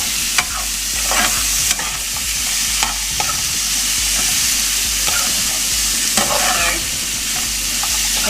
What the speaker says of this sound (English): You can see that the bacon's been cooking very well and the onion is doing a very good job of browning.